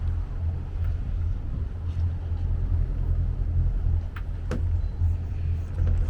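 Boat engine idling along at low speed while approaching a marina, a steady, close low rumble with some wind buffeting and a few faint knocks.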